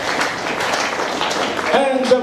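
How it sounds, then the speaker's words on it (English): Indoor audience at a resort show clapping for a birthday celebration, a steady dense wash of applause and crowd noise throughout, with a brief voice or cheer near the end. "Please give them a big round of applause."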